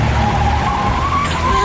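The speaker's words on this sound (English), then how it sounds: "I slam the brakes on real hard" Car tires skid under hard braking, a loud sustained squeal with a wavering pitched whine over a dense low rumble that holds steady for the whole stretch.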